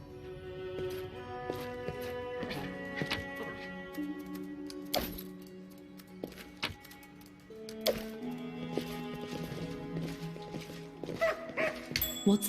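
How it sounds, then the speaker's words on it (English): Small puppy yipping and barking in the Pathfinder Kingmaker video game, short bright barks scattered over game music, some close and sharp. "Hey, there's a little puppy."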